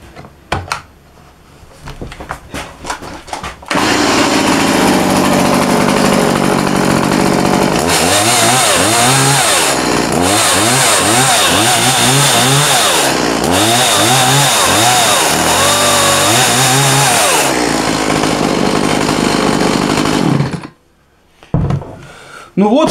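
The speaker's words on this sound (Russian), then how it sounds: "Пила работает, цепь не проскальзывает." A Stihl 180 chainsaw engine catches after a few pulls and roars steadily, revving up and down in rhythmic bursts near the microphone before cutting off.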